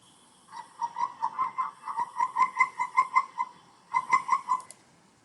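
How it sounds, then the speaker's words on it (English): A toad calls with its vocal sac extended: a loud, close series of rapid pulsed trills repeating steadily for several seconds, a brief pause, then another burst of pulses. "It's a nice toad crying out."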